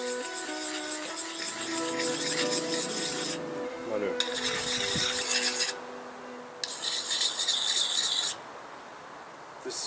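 Carbon steel puukko blade laid flat and rasped back and forth on a sharpening stone, a steady gritty scraping in repeated strokes with brief pauses, close and fairly loud with no talk.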